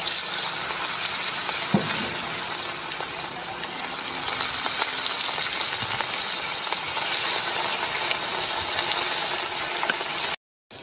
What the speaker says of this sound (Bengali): তেল গরম হয়ে গেছে, এবার আমি একে একে মাছগুলো দিয়ে দেব